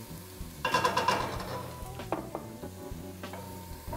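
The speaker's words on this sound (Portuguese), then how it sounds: "a gente vai refogar essa cebola até ela ficar bem dourada" Chopped onion sautés in a pan for a risotto with brie and prosciutto, a soft steady sizzle joined by a burst of clinking stirring strokes and scraping early on, then quieter sizzling with occasional taps.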